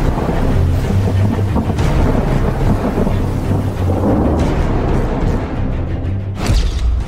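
Heavy rain roars constantly in Thane, with low rumbling thunder rolling underneath and brief louder bursts, dense and loud throughout without any voices.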